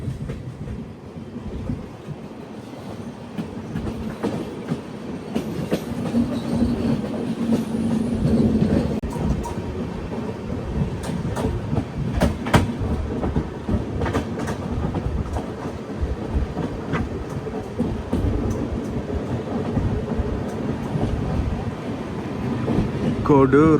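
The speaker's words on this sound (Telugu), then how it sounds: "మనం కోడూరు రైల్వే స్టేషన్కి చేరుకోబోతున్నాం" The Tirumala Express rumbles toward Koduru station, heard from inside a general coach: a continuous heavy clatter of wheels on track with steady low rolling noise and faint squeals, loud and close throughout.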